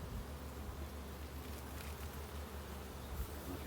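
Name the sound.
honey bees humming quietly in an open hive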